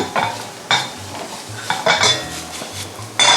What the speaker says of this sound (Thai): เราผัดให้เขาคลุกคลิกขึ้นมา อืม เวลาเห็ดเขาโดนกับกระทะเนี่ย